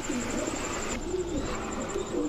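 Sirazi pigeons coo softly in a repeated, low rolling rhythm, close by against steady background noise, with no speech.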